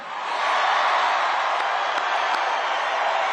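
A large audience claps and cheers steadily in a big hall, dense sustained applause rising quickly and holding loud throughout with no pause.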